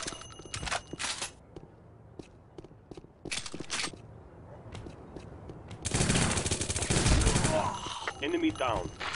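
Gunfire from the tactical shooter game Tactical Ops: sharp close shots arrive in short rapid bursts and single cracks, ending in a long loud sustained volley of automatic fire.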